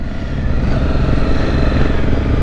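An adventure motorcycle engine hums steadily and fairly loudly as the bike sets off on the Bridgestone trail at the Adventure Bike Rider Festival 2023, a continuous droning note with no voices.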